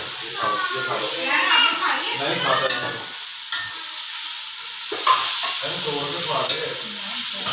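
Chicken frying in masala in a pan gives a loud, constant sizzle with stirring noises close by, while children's voices and other speech carry on in the background.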